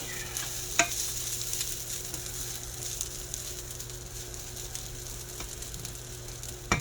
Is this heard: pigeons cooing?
no